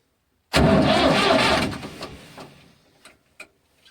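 A 1990 Massey Ferguson 255 turbo tractor, out in the snow, fires up with a sudden loud roar that quickly fades into a few faint ticks and clatters.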